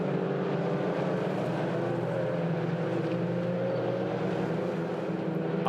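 Several race cars power nose to tail out of a right-hand corner at Oulton Park, their engines making a steady, loud, sustained drone with no speech over it.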